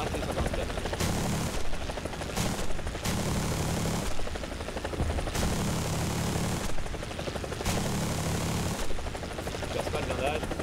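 A helicopter in the War Thunder video game, a loud continuous rotor and engine roar with repeated bursts of gunfire breaking in and out throughout.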